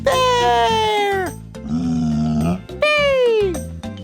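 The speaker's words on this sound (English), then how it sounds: "Bear!" A cartoonish bear growl, a low rumbling snarl sounding between bright, high cartoon vocal cries over upbeat children's music.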